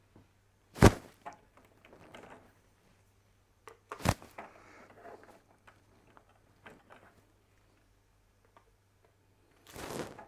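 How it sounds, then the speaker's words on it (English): Four ink cartridges are pulled out of a printer one by one, giving sharp plastic clicks and clunks spaced a few seconds apart, with quieter rattling and handling noises between them. "So you would remove the 4 cartridges."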